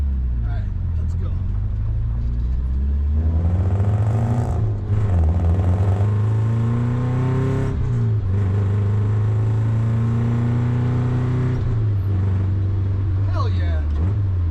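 An older vehicle, either a 1955 Ford F100 or a 1972 all-wheel-drive VW, drives along as its engine drones and rises and falls in pitch while accelerating. The engine is heard from inside the cab with some rattling.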